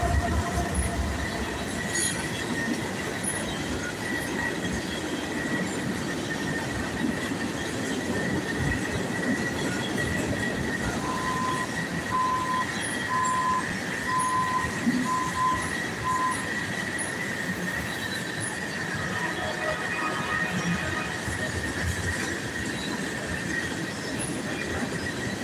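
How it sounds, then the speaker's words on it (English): A train rolls past with a sustained rumble and steady rail noise, a high squeal from the wheels running throughout and a short run of brief tones midway, loud and continuous, with no voices. "We got a train."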